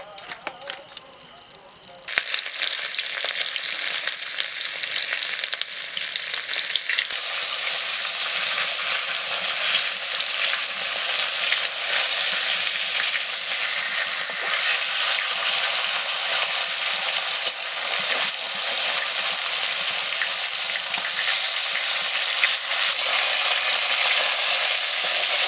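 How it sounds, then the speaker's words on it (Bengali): Pieces of bhetki fish rubbed with salt and turmeric sizzle and crackle steadily in hot oil, starting after a quiet moment and then holding a loud, dense frying hiss close up for the rest of the time. "ভেটকি মাছ কেটে রেখেছিলাম নুন হলুদ মাখিয়ে দিলাম এবার ভাজবো"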